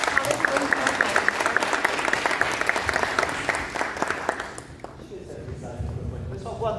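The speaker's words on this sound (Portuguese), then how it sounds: "Uma salva de palmas para o nosso palestrante da tarde." Audience at a business owners' event applauding the afternoon speaker, a full wave of clapping that fades out after about four and a half seconds, followed by quieter room sound and voices.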